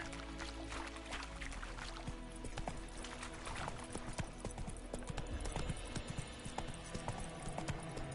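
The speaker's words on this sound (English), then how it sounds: "Not so fast, Roach. Giddy up." Horse hooves clip-clopping in The Witcher 3, a quick, steady rhythm of close hoofbeats running throughout amid game ambience.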